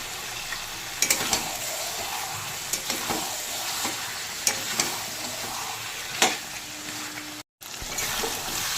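Mutton fries on a high flame, a dense loud sizzle with intermittent clanks and scrapes of a spoon stirring in the pot, heard up close, with a brief dropout near the end.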